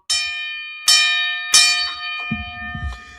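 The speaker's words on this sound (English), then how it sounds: "I'm going to start using this gong, bro." A large gong is struck three times in a steady rhythm, each hit ringing out loud and close with a long shimmering decay, followed by some faint low rumbling.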